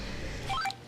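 A short run of telephone keypad tones as a number is dialed, several brief beeps in quick succession over a steady background hiss.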